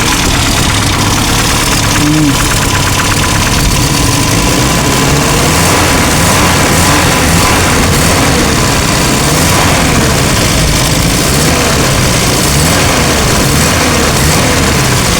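A Ford Laser car engine with tappet noise runs loud and close, idling steadily with a continuous rough rumble and fine rapid ticking throughout.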